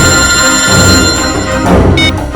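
A telephone rings steadily with a bright electronic tone, close and fairly loud, with no voices over it.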